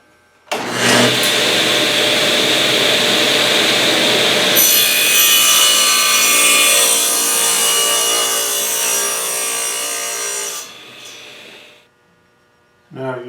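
A table saw spins up and rips through a wooden piece for a miter setting jig, a loud close roar lasting about ten seconds that changes tone midway as the blade bites, then winds down to quiet.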